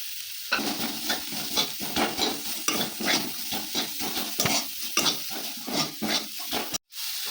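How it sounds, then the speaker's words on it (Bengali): Chopped onion frying and being stirred in a wok for homemade chicken rolls, a steady close sizzle broken by repeated scraping strokes of the spatula, with a brief cut near the end. "কড়াইতে পেঁয়াজ কুচি দিয়ে দেবো"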